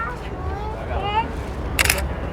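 A single camera shutter click snaps near the end, amid outdoor crowd babble in a queue outside a Brooklyn ramen restaurant, with people chatting nearby.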